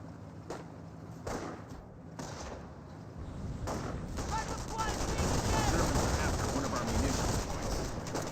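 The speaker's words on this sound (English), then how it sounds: "they're fighting from multiple angles, so they will have all the guns firing" Gunfire in the real-time strategy game Company of Heroes, a US versus Wehrmacht match with garrisoned flamethrower and rifle squads: sparse shots at first, then dense overlapping rifle and machine-gun fire building into a continuous battle din.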